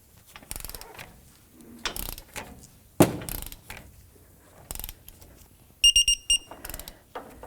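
A ratchet with a 21mm socket tightens a bolt during outer tie rod replacement on a 1997–2004 Dodge Dakota, giving bursts of clicking ratchet strokes and metallic clanks, close and fairly loud, with no speech.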